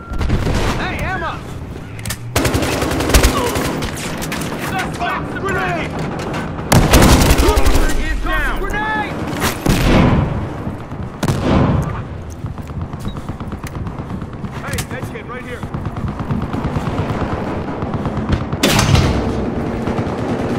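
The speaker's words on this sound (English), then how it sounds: "Taking heavy fire!" Heavy gunfire in a video game, with repeated bursts and loud booming blasts stacking up close and dense throughout, under intermittent talking voices.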